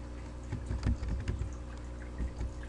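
Soft, quick keystrokes tap on a computer keyboard in a short, uneven burst, faint and close, with no talking.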